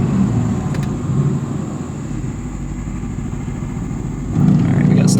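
Mercedes-AMG GT C roadster, a 2020 model, with its engine droning loud and steady through quick downshifts, a sharper surge near the end of the pass and no talking over it.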